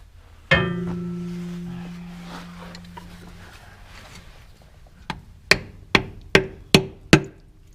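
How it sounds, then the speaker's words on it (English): A metallic clank rings out and fades slowly, then after a pause five sharp hammer taps strike metal in a quick, steady series, prying off a transmission cover on an IH 1086 tractor. "we need that hammer or something to pry underneath this."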